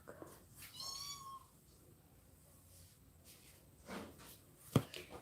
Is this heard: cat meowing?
yes